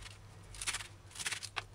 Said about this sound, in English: And then you can use the scissors to chop it in about an inch length.